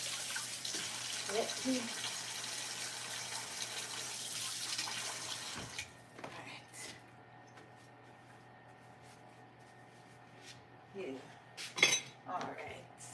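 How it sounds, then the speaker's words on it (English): A container washed out under running kitchen tap water, a hiss of flow at first, then clinks and knocks of dishes while a person speaks briefly. "Let me wash it out."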